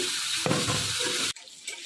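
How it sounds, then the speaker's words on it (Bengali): Potatoes dropped into hot oil over a radhuni seed tempering for helencha greens sizzle loudly and steadily, a broad hiss that cuts off sharply partway through and leaves quieter crackling. "রাঁধুনি ফোড়ন দিয়ে আর আলুগুলো দিয়ে দিচ্ছি"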